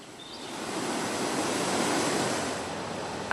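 The Kalofer waterfall, also called Raiskoto Praskalo, roars as a steady broadband rush of falling water that swells slightly and holds, with no voices.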